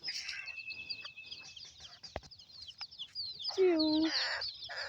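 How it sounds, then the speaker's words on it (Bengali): Farm chickens clucking nearby at a village homestead, a run of short bird calls ending in a loud drawn-out cluck, with chirps and faint background noise. "সব বাইশটা মুরগি আসছে"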